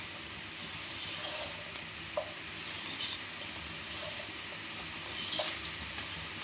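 Meal maker (soy chunks) and okra fry in a pan with a steady, close sizzle, broken by a few light scrapes and clinks of a spoon stirring, with no voices.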